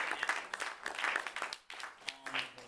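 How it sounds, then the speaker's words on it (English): An audience at a club meeting gives scattered, uneven clapping that swells and briefly dips, with voices coming through near the end. "I just wanted to give them a round of applause for doing super hard"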